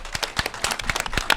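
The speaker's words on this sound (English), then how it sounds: "So let's give that a round of applause." Brief burst of clapping at a Florida Film Festival filmmaker forum, a handful of hands applauding in quick irregular claps, close and fairly loud.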